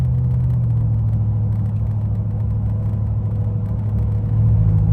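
A V8 car engine with cylinder deactivation cruises at highway speed, switching between V8 and V4 modes, heard as a steady loud low drone mixed with tire and wind roar that deepens slightly near the end.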